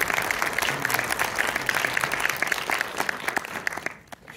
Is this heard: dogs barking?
no